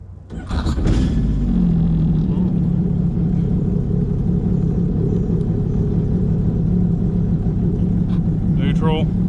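A jet ski engine starts with a short burst and then settles into a loud, steady low rumble that runs throughout, close up. A voice speaks over it near the end.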